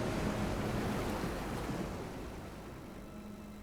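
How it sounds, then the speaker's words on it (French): Submarine diving in the video game Silent Hunter 5, a steady wash of rushing, surging water with a low rumble that eases and fades slightly toward the end, heard alone with no voices. "Et le sous-marin plonge."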